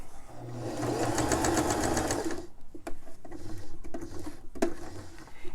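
A sewing machine stitches a face mask in a steady, loud mechanical run for a little over two seconds, then stops, leaving quiet handling clicks and soft rustling.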